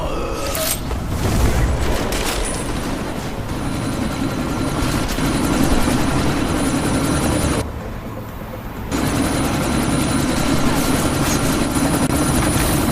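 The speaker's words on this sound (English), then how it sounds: "you need to disable that chopper" A video game helicopter from Deus Ex Mankind Divided thumps loudly and steadily in a sandstorm, its rotor drone broken by a brief dip before returning at full strength.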